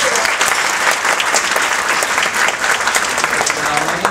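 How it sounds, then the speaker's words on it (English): Wedding guests at a reception give the couple a loud round of applause, a thick continuous clapping close by with scattered cheers and voices mixed in. "Give them a round of applause, please."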